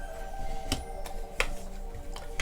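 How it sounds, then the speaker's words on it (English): Tarot cards being shuffled, giving a few distinct soft riffling snaps spread across a few seconds over a quiet background hum, with no talking. "I'm just going to keep shuffling."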